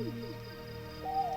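An owl hoots in the ambient world of the game Proteus, soft tonal calls over a quiet, mellow synth backdrop, faint and alone.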